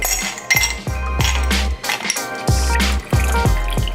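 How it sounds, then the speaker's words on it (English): Ice cubes clink and rattle into a cup in repeated bursts, with water pouring, over a steady low thumping beat. "first you just need a cup filled with ice and water"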